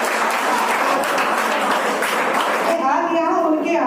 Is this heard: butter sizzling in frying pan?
no